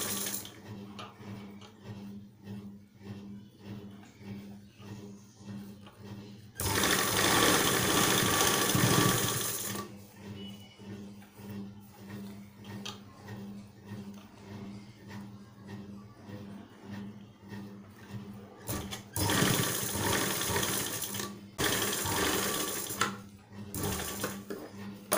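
A sewing machine stitches a blouse sleeve with a designer hand pattern, running in two loud, steady bursts separated by quieter stretches of handling and faint background noise, with no talking.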